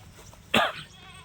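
A single short goat bleat rings out close by in a goat shed, breaking an otherwise quiet background.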